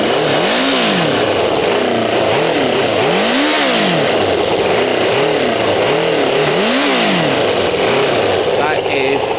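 Kawasaki ZL600 motorcycle engine running loud and close as it warms up, with repeated rising-and-falling revs in a steady rhythm of roughly one swell per second, continuous throughout.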